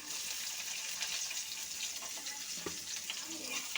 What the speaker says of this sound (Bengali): এলাচ দারচিনি একটু ভেজে নেব দিয়ে দিচ্ছি পেস্ট কুচি